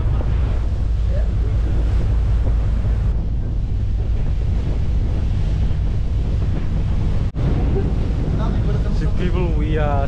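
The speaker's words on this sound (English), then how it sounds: "we are sailing past Naingani now, and now it's towards Ovalau Island." A boat travels at sea past Naingani toward Ovalau Island in Fiji, with loud, constant wind buffeting and the wash of waves. A faint voice may be present near the end.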